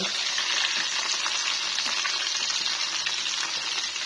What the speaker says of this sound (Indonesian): Goreng kentang.